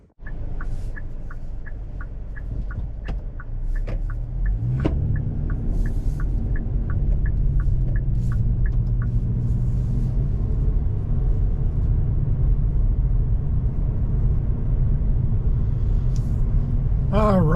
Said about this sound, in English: we are driving the 2023 Forte GT Line up here on some of my favorite back roads